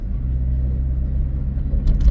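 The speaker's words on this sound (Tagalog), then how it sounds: "Kita nyo ba yung sasakyan sa likod ko? Very close." A car travels close behind on the road, its engine and tyre rumble steady and loud, swelling slightly near the end, with no talking over it.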